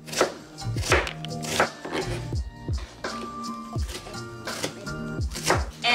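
Green onions are chopped on a board with a knife, a series of irregular, close, crisp thuds and cuts spaced about half a second apart, with no one speaking.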